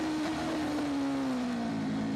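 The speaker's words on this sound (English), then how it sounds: "You'll hear that bike as we stay with it. We'll just drop down into first in a moment." A racing motorcycle at the Macau Motorcycle Grand Prix, engine tone dropping steadily as the bike slows toward a downshift into first gear, heard from a distance beneath track ambience.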